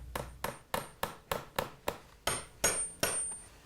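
A child drives nails into a soy-based polyurethane board with a hammer, about ten crisp, evenly spaced blows that are close and loud, with no talking.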